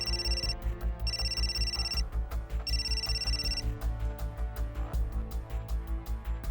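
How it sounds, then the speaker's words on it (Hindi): A telephone rings in repeated electronic bursts over a steady, loud rhythmic music bed that pulses throughout, in a kidnapping crime reenactment set in Karachi. "एक बार फिर अगवाकारों की जानब से फोन बजने लगा।"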